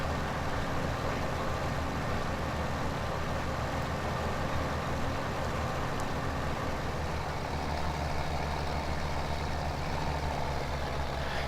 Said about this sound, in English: I may have to get a slightly more powerful tractor to accommodate the hills on this map